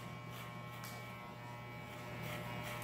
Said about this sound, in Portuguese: Estou passando a máquina